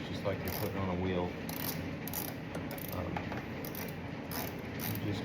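A ratchet clicks rapidly and continuously while tightening brake caliper bolts on a 2002 Corvette, a close, busy mechanical chatter with someone talking faintly under it.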